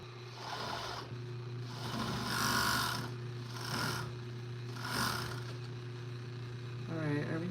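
A serger sewing machine stitching a non-stretch halter bodysuit runs in several short mechanical bursts with a steady motor hum beneath, pausing between runs, with a faint voice at the end.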